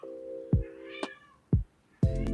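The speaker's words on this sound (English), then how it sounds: "You hear my cat?" Pet cat meowing close by, a few clear, fairly loud meows spaced around half a second apart, rising and falling in pitch, separated by soft low thumps, with no talk over them.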